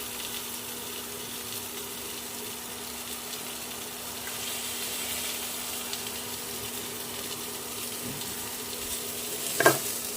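Spice paste frying with potatoes and pointed gourd in a pan for fish curry, a continuous soft sizzle throughout with a brief clink near the end.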